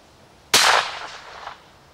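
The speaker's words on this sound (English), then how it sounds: "let's see what this silencer sounds like on a HMR" A single sharp report from an HMR rimfire rifle fitted with a Wildcat Cub suppressor cracks out loudly, then decays in a short reverberant tail, with no voices around it.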